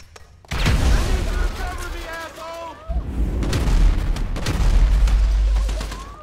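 Grenade blast followed by rumbling booms and gunfire in a Grand Theft Auto V battle scene, loud and dense, with a shorter lull midway and a voice speaking over the noise.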